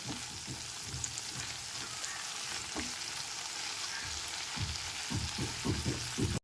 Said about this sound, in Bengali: গ্যাসের ফ্লেমটা লো টু মিডিয়ামে রেখে বেশ কিছুক্ষণ সময় নিয়ে পেঁয়াজ কুচিগুলো লাল করে ভেজে নেব